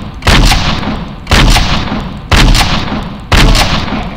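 A shotgun with heavy recoil firing in the video game Resident Evil: four loud, booming blasts, evenly spaced about a second apart, each with a short decaying tail, close and alone.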